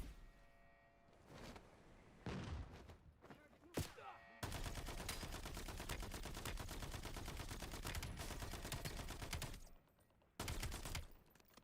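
Heavy sustained gunfire aimed at a hostile in a Black Ops 7 shooter game, with scattered shots first and then a long, loud, continuous automatic barrage, followed by a short pause and a final burst.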